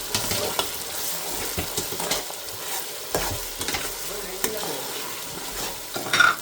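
Masala and onions fry in a pan for stuffed crab, with a steady sizzle broken by repeated scraping stirs and a few clinks of utensil on metal, close and clear.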